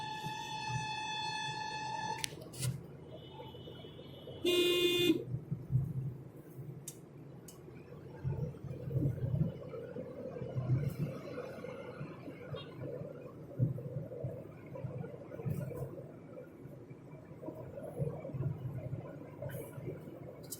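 A Datsun Redigo car is being driven, with a steady low cabin rumble and road noise throughout. A few brief high chimes and clinks come near the start.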